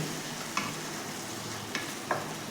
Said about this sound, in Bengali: সেই মাংসগুলো দিয়ে দিলাম দিয়ে ভালো করে মাংসের সাথে মশলাটা কষবো